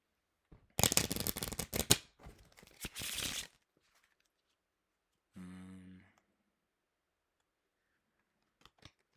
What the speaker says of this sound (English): yeah, it's a good shuffle.